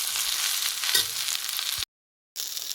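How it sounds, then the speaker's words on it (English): Day lily flowers fry in a hot pan with a bright, continuous hiss and a brief stirring scrape, close by, cut off by a half-second gap of silence before the sizzle resumes. "heat for a while, we stir it."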